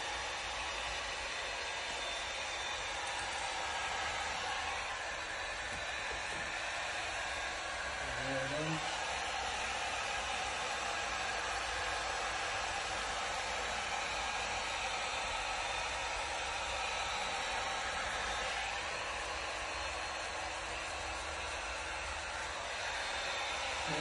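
A heat gun blows steadily on a vinyl decal being applied to a BMW, giving a constant breathy hiss throughout at low level.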